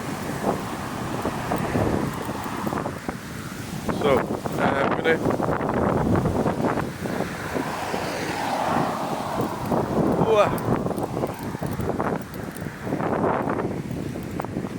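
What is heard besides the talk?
wind blowing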